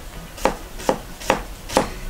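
A kitchen knife chops ginger, skin on, for a saag curry, four evenly spaced sharp knocks on a cutting board, close and clear with no voices.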